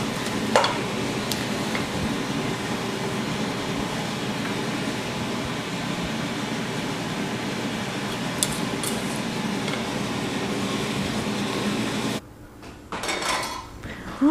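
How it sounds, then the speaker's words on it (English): Pasta being scooped onto a plate while cooking shrimp primavera: steady kitchen background hum with occasional light clinks of utensil on dishware, then a short shuffling clatter near the end. "I'm going to scoop the pasta onto the plate now."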